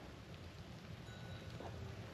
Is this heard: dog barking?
no